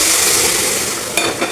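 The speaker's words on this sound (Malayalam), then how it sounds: "നമുക്ക് ബീഫ് ഇതിലേക്ക് കൊട്ടാം." Beef tipped into a hot pan for onion-chili beef fry hits the oil with a loud, close, spitting sizzle, with a quick clatter near the end and no voices.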